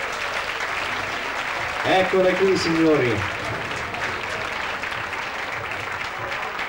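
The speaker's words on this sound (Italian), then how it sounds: "accogliamole con un applauso" Beauty pageant contestants walk onto the stage to continuous crowd applause. A voice speaks briefly over the clapping partway through, and the applause carries on steadily after he stops.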